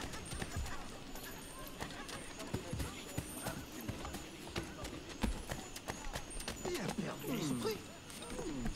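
Horse hooves in Assassin's Creed III, irregular faint hoofbeats thudding beneath game ambience and clatter, with a brief whinny-like cry near the end.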